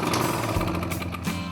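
Victa Imperial cylinder lawn mower engine cranking over with its air filter removed, a loud, steady, rapid mechanical chugging and rattling that fills the whole stretch without pause.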